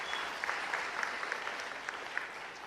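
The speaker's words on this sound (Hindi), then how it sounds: "जरा ताली तो बजाओ रूबीना के लिए।" An audience at a women's self-help group loan distribution event in Bhopal claps for Rubina: steady, dense applause from many hands at moderate volume, with a few sharper individual claps standing out.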